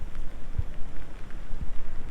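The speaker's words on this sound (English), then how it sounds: "because in this rain we can't sit outside" Steady rain falls outdoors in Istanbul, a close, even hiss of drops with a few soft taps and no voices.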